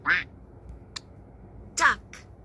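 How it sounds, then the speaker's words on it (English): A farm duck gives two loud, nasal quacks about one and a half seconds apart, each with a softer trailing blip, against a quiet background. "Duck."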